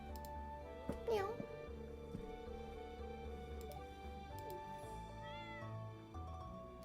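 A cat meows a few times early on, close and clear over soft background noise, with someone talking and a voice briefly imitating the meow.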